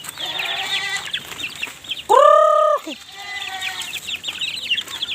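Farm chickens cluck and chatter close by in a busy flock, with a louder drawn-out squawk rising above the rest partway through.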